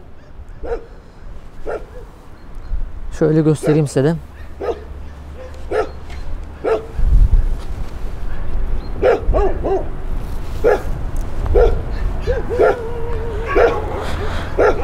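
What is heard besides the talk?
dogs barking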